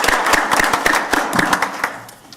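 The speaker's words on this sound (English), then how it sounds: "I'd like to give them a round of applause" Small audience at a school governing board public meeting clapping for culinary students and chefs, a short burst of distinct close claps that fades out quickly.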